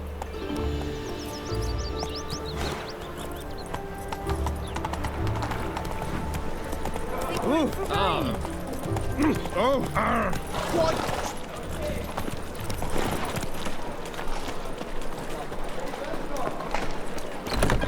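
Roach the horse gallops in The Witcher 3: Wild Hunt, hoofbeats running steadily through the whole stretch under game music and a voice, with a brief whinny-like cry near the middle.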